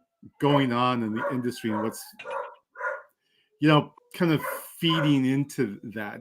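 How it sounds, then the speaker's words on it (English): Dogs barking in the background of a home podcast recording, faint under steady close-up talk that runs through most of the clip. "Sorry about the dogs in the background."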